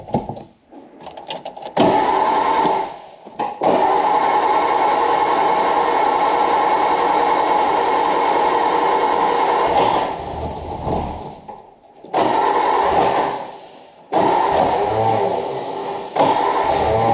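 A car engine in a home-wired engine bay turns over and runs in long sustained stretches, a steady broadband drone with brief drops near 3 and 11–14 seconds as it cuts and restarts, loud and close with no talking.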